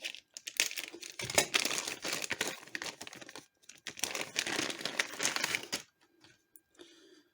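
Packaging crinkles and tears as a ceramic plate is unwrapped, in two long bursts of rustling and crumpling close by, followed by quieter scattered handling noises.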